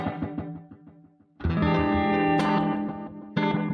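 Electric guitar played through a Space Echo–style tape delay effect on an iOS app, with sustained chords and repeating echoes blurring into one another, loud and upfront.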